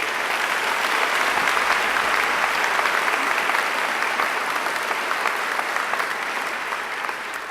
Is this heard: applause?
yes